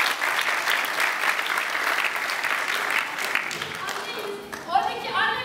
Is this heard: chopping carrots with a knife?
no